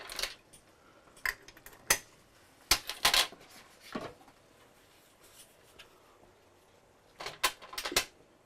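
Pork chops being laid into a crockpot over a bed of mushrooms and onions, a few sparse soft clacks and knocks scattered among quiet stretches.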